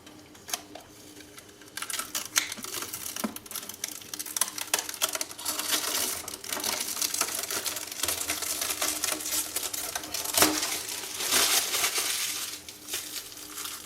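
Protective plastic film is peeled off a freshly finished custom PC build, giving a long run of close, dense crinkling and crackling with sharper snaps scattered throughout and no voices.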